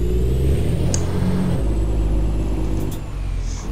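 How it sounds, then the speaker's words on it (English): Truck engine in American Truck Simulator drones at a steady, loud low pitch, with a heavier revving stretch in the first second and a half before it settles into an even hum; no talking. "You can always hear when the engine revs up."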